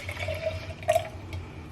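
Liquid poured into a container, a short burst of splashing and filling over low background hum, with a brighter gurgling moment in the middle before it tapers off.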